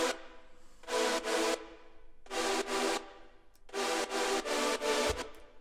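Chord layer of a NoCopyrightSounds-style electronic beat: bright, airy synth chords held in three phrases of repeated stabs with short gaps, smooth and wide, no voices over them.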